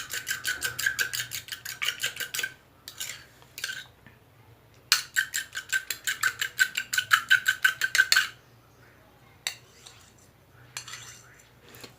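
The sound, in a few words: mixing an egg's yolk and white for a hair mask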